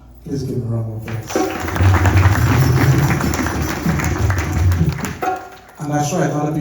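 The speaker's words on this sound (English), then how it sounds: "Please give him a round of applause." Audience round of applause at a family yagna ceremony, a dense burst of clapping rising after a voice and lasting several seconds before voices return.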